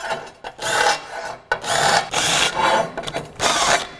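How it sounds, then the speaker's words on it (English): Holes drilled with a magnetic drill in thick steel are deburred by hand in close, repeated scraping and rasping strokes, about six rough bursts with short pauses between them. "We'll deburr these real fast so nobody hurts themselves."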